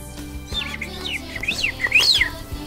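A sparrow sings a quick run of bright, rising and falling chirps, close and fairly loud, with no talking.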